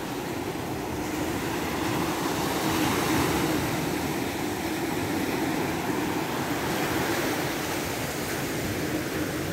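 Waves at a small landscaped beach make a steady, fairly loud broadband wash that rolls on without a break and with no voices.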